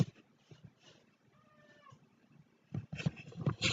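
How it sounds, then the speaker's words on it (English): A cat meows in a quiet room, giving a soft drawn-out mew in the middle, with faint rustling and thumps around it and louder handling noises toward the end. "Hello, my second cat just arrived."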